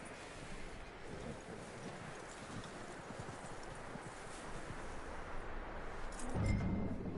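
Horse hooves clip-clop steadily in Red Dead Redemption 2, a quick even rhythm of muffled hoofbeats under soft wind, ending with a louder low thump.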